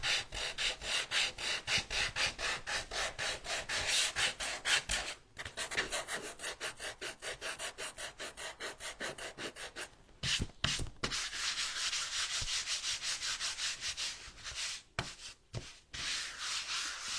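Dry wood being sanded by hand in fast, even strokes, close and steady, broken by a few brief pauses.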